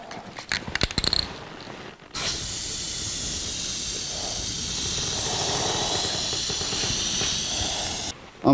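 Paint spray gun hissing steadily as a fourth coat goes onto the restored firewall of a 1982 Jeep CJ7, a continuous close, loud hiss of about six seconds between brief handling clatter.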